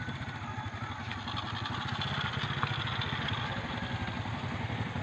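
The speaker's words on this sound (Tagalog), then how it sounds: "tabi nyo na lang konti kasi may motor baka kayo maano" Motorcycle engine running steadily and fairly loud on a mountain road, a continuous mid-pitched drone with faint clatter throughout, holding close rather than fading away.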